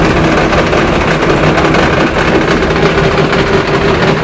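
Tractor engine running loud and steady with a rotavator attached, close by and continuous as the clutch is let out, with a heavy low rumble and no voices.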